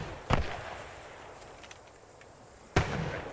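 Two sharp, booming artillery blasts in the Post Scriptum war game land a few seconds apart, each a sudden moderately distant crack with a short rumbling tail.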